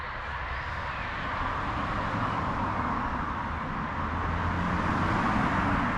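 Steady, continuous roar of traffic on a busy nearby road, heard from a garden with trees; a constant broadband wash of passing vehicles dominates throughout and buries any faint birdsong.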